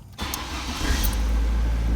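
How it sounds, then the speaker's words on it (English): A 1993 Ford Escort engine cranks briefly, catches and settles into a steady, loud low idle right at the microphone, with no voices. "when you start the car"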